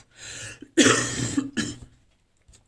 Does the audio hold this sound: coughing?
yes